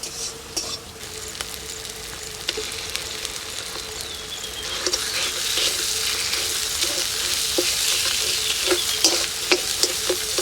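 Peanut paste, with dried chilli paste, turmeric and salt, sizzles in hot oil in a village kitchen while a spatula stirs it. The frying hiss is loud and continuous and swells partway through, with scattered clinks against the pan and no talking.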